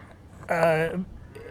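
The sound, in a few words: cattle mooing on high ground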